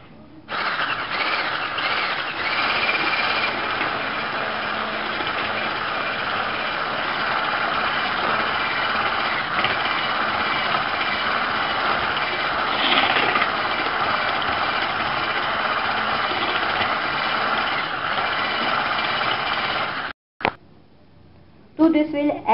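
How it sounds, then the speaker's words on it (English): A hand blender whisks butter and sugar for a vanilla sponge cake batter, a loud, steady motor whine running continuously for about twenty seconds before cutting off. "Now we'll whisk it using a hand blender."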